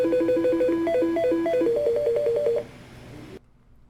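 A Danforth VoIP desk phone playing short ringtone previews, a bright electronic melody of quick stepped beeps that runs a few seconds and stops abruptly.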